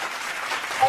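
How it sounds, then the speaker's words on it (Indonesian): Audience at a group presentation session applauding, a brief dense wash of clapping heard over a voice speaking. "beri tepuk tangan yang meriah untuk para narasumber dan untuk kita semua"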